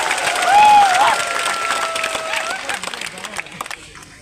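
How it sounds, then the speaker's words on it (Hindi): A political rally crowd claps together in a broad, steady wash that swells early and then thins out toward the end. A voice carries over the top. "आप अपने आप को भी थोड़ा सा ताली देकर अपने आप को भी क्रेडिट लीजिए"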